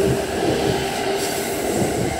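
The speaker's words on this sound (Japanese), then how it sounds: "5番線、電車が到着です。" An E353 series limited express train speeds through Kanda station without stopping, a loud, steady roar of wheels and rushing air with a constant tonal hum that holds throughout.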